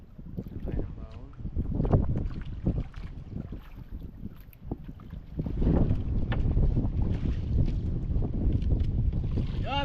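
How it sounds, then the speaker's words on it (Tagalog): Strong wind buffets a fishing boat at sea, gusty roaring wind noise with engine and water rumble underneath, fairly close, with voices talking over it. "Yan, malakas na hangin."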